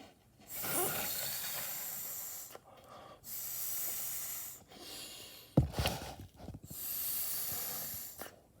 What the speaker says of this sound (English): I'm going to, again, blow on it 3 times